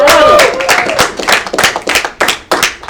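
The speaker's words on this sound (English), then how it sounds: "Another round of applause for Adam." Audience applause at a poetry slam: a small crowd claps in uneven bursts close by, fairly loud, with little talk over it.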